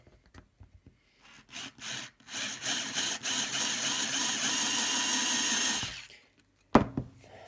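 A power drill whirs steadily for several seconds after a few short test bursts, drilling holes in miniature terrain pine trees, then stops, followed by a single sharp knock.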